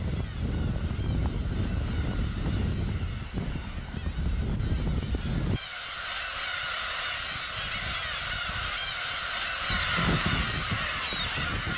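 Black-tailed gull chicks about a month old, starting flight training, call in a loud, continuous chorus of honking cries. Gusting wind runs underneath, and the sound changes partway through.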